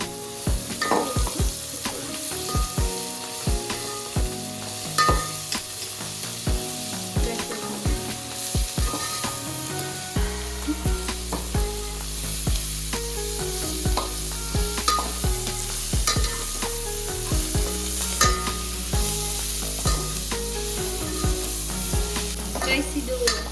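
Mint and coriander leaves frying in a pan, a continuous close sizzle broken by frequent scraping stirs and clatters of a utensil against the pan, steady throughout with no talk.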